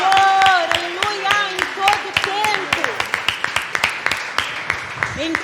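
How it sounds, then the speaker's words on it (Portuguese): Rhythmic congregational clapping in a church runs beneath a prominent sung voice. The claps keep a steady beat, and they become more exposed once the singing fades toward the end. "Você pode aplaudir ao Senhor nesta noite"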